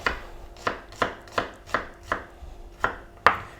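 A knife chops an onion finely on a board: about eight crisp, evenly spaced strikes, close and clear, with no talking.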